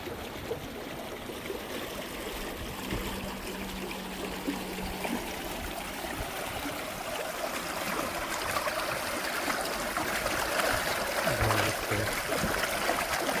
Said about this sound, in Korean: 물소리를 들으면서